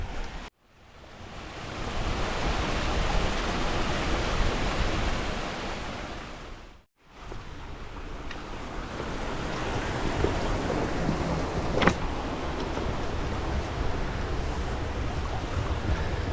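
Steady, full rushing water from a small waterfall in a mountain gill roars continuously from close by, broken only by one brief pause before resuming.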